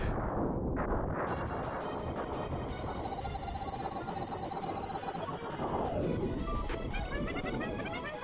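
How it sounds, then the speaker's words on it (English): An aircraft carrier's core explodes in the Star Fox 2 video game, a loud, continuous crackling and rumbling roar with electronic tones layered through it. "is that the core down? It's exploding, I believe it is."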